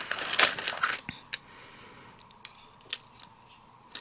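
Scissors cut out a paper piece for crafting: a quick burst of snipping at the start, then several separate crisp snips spaced across the rest, close and quiet with no talk.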